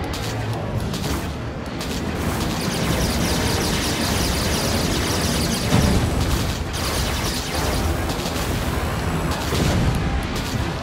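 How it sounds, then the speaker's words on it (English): Proton missiles launch in the space-stage combat of Spore, a dense, continuous barrage of booming blasts and crackling impacts that stays loud and steady throughout, with no clear gaps between shots. "Proton missiles!"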